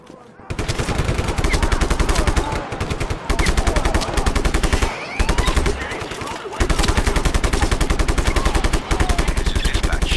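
Sustained machine-gun fire in Just Cause 3, loud and close, long rapid bursts broken by a few brief pauses, with a voice talking over it at times.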